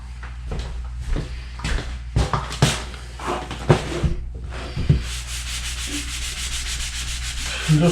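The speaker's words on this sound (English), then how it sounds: "I'm just wiping it over with a sponge" Repeated rough rubbing and scrubbing strokes of a wet sponge against a patched drywall surface, close and steady, with a continuous hiss of wiping toward the end.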